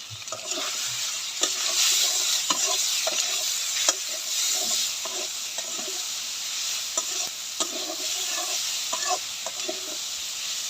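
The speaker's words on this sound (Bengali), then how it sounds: "এবার দিয়ে দেবো ভেজে রাখা সয়াবিন মশলা" Fried soybean chunks are stirred into a sizzling spice masala for a vegetarian dish, with a steady frying hiss broken by repeated scraping stirs and clinks of the spoon against the pan, close and clear.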